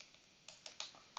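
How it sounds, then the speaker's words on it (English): Keys tapped on a Mac computer keyboard while typing a terminal command, a handful of quiet, crisp clicks in an uneven rhythm, close and alone with no talking. "So if I type brew,"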